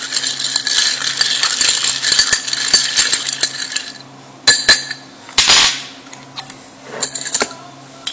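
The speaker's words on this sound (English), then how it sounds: "Give it a quick stir." Bar spoon stirring a Boulevardier cocktail over ice, close and clear: a steady, rapid clinking and rattling of ice against glass for about four seconds, then a few separate knocks and clatters as the spoon settles.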